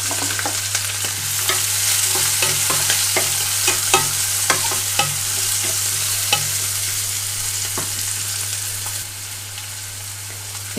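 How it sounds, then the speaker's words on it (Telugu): Chopped onions and green chillies fry in hot tempering oil in a covered pan for tomato boondi curry, a steady close sizzle with scattered stirring clicks and a low constant hum underneath, easing slightly near the end. "ఇక్కడ మూత పెట్టి ఉల్లిపాయలు వేగనిస్తున్నాను"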